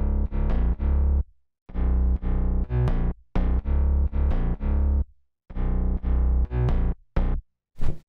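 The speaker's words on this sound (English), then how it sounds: "Guys, this is the drop bass." Future house drop bass made in FL Studio, sidechained and processed with EQ, distortion and compression, pumps in loud, gritty, rhythmic bursts with short gaps and sharp sweeping top end, ending in quick chopped hits.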